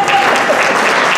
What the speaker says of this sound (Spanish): Fuerte el aplauso para el periódico La Garzúa.